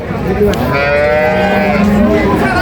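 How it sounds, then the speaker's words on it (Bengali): A Holstein Friesian dairy cow at a cattle market gives one loud, close, drawn-out moo that fills the whole moment, with no talking over it. "দেখেন অনেক বড় একটি গাভী"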